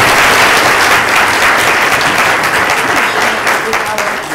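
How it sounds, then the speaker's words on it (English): Loud, dense applause from a lecture audience, many hands clapping close and steady, holding strong before gradually tapering near the end. "can we have one last round of applause for"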